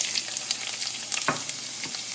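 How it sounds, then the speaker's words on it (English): White parts of green onions dropped into hot oil, crackling in a bright steady sizzle with a couple of sharper pops and spatters, close by and without voices. "I'm going to go ahead and add my white part of my green onions to my oil here."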